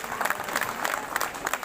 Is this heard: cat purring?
no